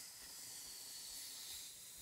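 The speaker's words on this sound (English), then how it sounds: "Now, just very carefully release the air from the balloon." Air hisses steadily out of a plaster-filled balloon as it is carefully released, a faint, even, breathy hiss with no talk.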